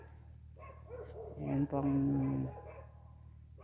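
A dog barks outdoors on a snowy winter morning walk, a short burst of two or three close barks in the middle, with a person speaking quietly before and after.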